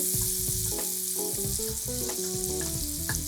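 Squash browning in fat in a one-pot lentil soup pot gives a loud, dense, continuous sizzle and crackle, close up and unbroken, with no talking.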